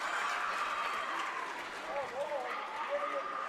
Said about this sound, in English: You can feel the Blue Devil faithful getting loud